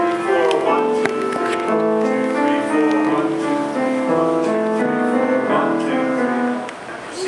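Main motif of a Deems Taylor prelude in 7/8 time, played on a pitched instrument as a flowing series of sustained notes in an irregular seven-beat pulse, fairly close and even in level, fading at the end.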